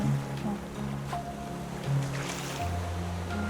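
In the survival game Raft, ocean waves surge and wash around a small raft at sea in a steady, low rush. Faint tonal game sounds and light wind sit beneath the swell.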